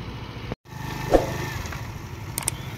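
A scooter engine runs steadily at low speed during a riding lesson, a continuous close hum with a brief dropout and a small bump partway through.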